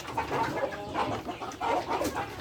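Several free-range native chickens clucking and murmuring close by in a coop, a busy overlapping chorus of short clucks with a soft background hum.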